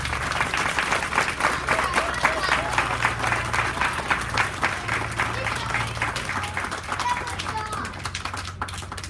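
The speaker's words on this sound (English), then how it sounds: "let's have a big round of applause for all the volunteers" An outdoor crowd at the Lake Trail Habitat for Humanity site dedication applauds the volunteers, with dense steady clapping and scattered cheers continuing throughout and a low hum underneath.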